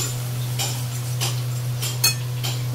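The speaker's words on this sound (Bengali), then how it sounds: "ধনে গুঁড়ো, জিরে গুঁড়ো, হলুদ গুঁড়ো দিয়ে দিই, নাড়তে থাকি।" Ground coriander, cumin and turmeric are stirred in a pan for prawn curry, a utensil scraping in a few soft, evenly spaced strokes over a steady low hum, with one sharper clink near the end.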